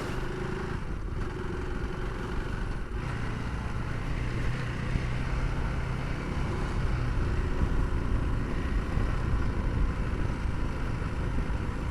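A KTM 390 Adventure R rides an off-road patch of loose sand with a steady engine drone and rolling tyre noise, continuous and fairly close, with a few brief clattering knocks early on.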